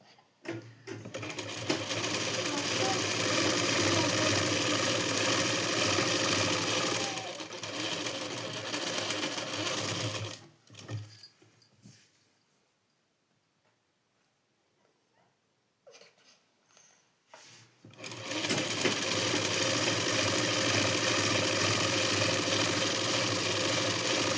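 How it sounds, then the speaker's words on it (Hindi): A sewing machine stitches the side seam of a blouse in long steady runs, close and loud, with a quiet pause of several seconds before the motor starts up again. "यहाँ पर साइड से सिलाई लगा लेनी है"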